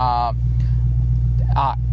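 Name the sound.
sports car engine idling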